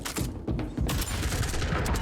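Shotgun fire in the sci-fi shooter game Starsiege Deadzone comes as a rapid run of heavy, booming blasts layered close together, loud and continuous across the short stretch.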